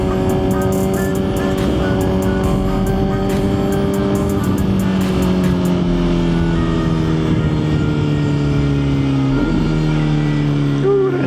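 A Suzuki GSX-R1000 motorcycle rides down a highway with a loud, steady engine drone and wind rush. The engine pitch slowly falls, and a quick downshift blip comes near the end.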